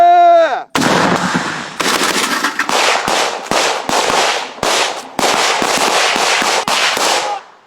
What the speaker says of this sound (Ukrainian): РПГ!